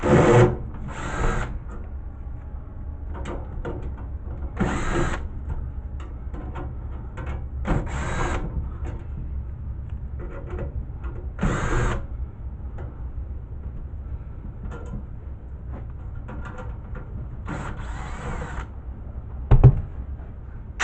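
Power drill with a socket bit driving screws into sheet metal of an old bread making machine, whirring in several short bursts separated by pauses, close by, with light clatter of handling in between.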